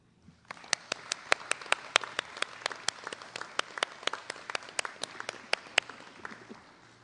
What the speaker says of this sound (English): Students, please join me and your teachers in recognizing your guests with a round of applause.